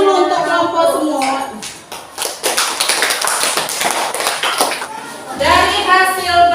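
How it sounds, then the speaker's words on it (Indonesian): A classroom of children applauding a student group, a burst of many hands clapping with scattered taps and shuffles, sitting between stretches of speech and children's voices. "Tepuk tangan dulu untuk kelompok semua."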